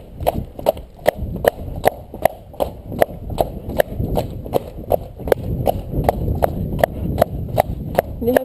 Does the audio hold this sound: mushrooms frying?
no